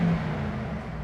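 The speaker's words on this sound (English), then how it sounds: "So I've got the exhaust in its loudest setting." A 2021 Mercedes-AMG E63 S, parked with its exhaust in the loudest setting, gives off a steady, fairly loud low engine rumble that holds for about a second with no talking.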